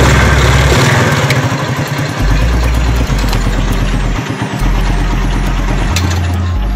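A motorcycle engine, started after a capacitor is fitted during headlight wiring, idles loudly and close by with a steady low chugging throb, with small dips as it settles.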